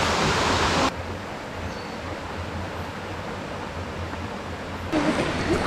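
A clear river flows beside a family campsite near the Mount Kampar waterfalls in Malaysia, a steady broadband rush of water with a louder burst at the start and end.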